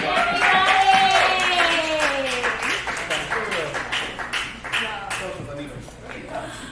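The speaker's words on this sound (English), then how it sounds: "Clap it up and everybody" Rhythmic audience clapping in a live bar show setting, loud and close, running under a sung vocal line with steady repeated claps.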